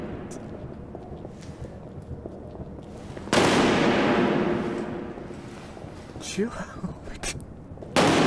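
Gunfire in the horror game Amnesia: The Bunker lands as one sudden loud blast with a lingering rumbling decay, followed by smaller bangs, while a person talks over the game sound.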